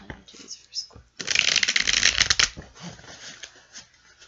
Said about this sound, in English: All right, maybe we'll do one more shuffle.